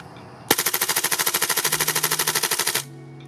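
Tokyo Marui MWS gas blowback airsoft rifle firing a single full-auto burst with a second buffer and shifting weights, a fast, steady string of loud, sharp cracks lasting about two seconds, close by and alone.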